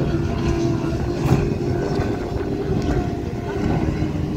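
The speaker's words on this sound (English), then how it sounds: "they're in the speedboat" An offshore circuit racing speedboat at Liverpool drones past at speed, a low engine rumble mixed with wind buffeting the microphone, steady and fairly loud.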